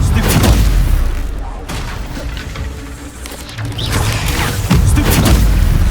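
Incendio fire spells cast in Hogwarts Legacy burst out as repeated loud whooshing booms and crackles, with heavy bangs at the start and end amid continuous combat noise.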